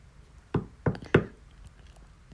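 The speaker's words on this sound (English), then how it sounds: "He knocked at the door." Three firm knocks on a wooden door, evenly spaced and close, standing alone against quiet background as a sound effect in a narrated Little Red Riding Hood fairy tale.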